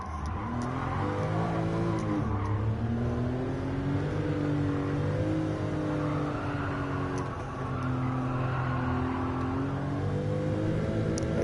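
Race cars in the Gran Turismo 7 video game, engines droning and revving loudly throughout with rising and falling pitch as cars shift gears and jostle through corners toward a tunnel.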